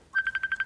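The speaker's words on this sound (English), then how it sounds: "Oh, that's my phone. It ain't supposed to be going off." A mobile phone rings with an incoming video call, a short electronic tone pulsing rapidly about six times, clear and fairly close with nothing else over it.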